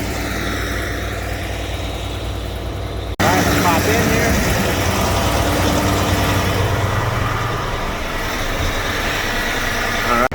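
A John Deere 9560RT tractor engine idles steadily at a drag race, a low mechanical rumble throughout, with someone speaking briefly over it.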